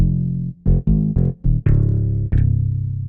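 A clean electric bass from a Serum hybrid orchestra preset plays a short bouncy line of separated notes, deep and close, with no other instruments.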